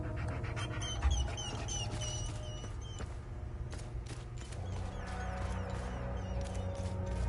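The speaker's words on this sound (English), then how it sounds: "Do you see the dog tied to the chain and fucking crying?" In the video game Hell is Us, a dog tied to a chain cries with repeated high whimpers and whines over quick panting breaths, close and fairly quiet.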